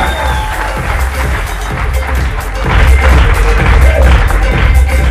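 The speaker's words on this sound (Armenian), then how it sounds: "ձեր ծափահարությունները" Loud audience applause and cheering fills an indoor Muay Thai event, with steady clapping and crowd noise that swells louder in the second half, no clear speech on top.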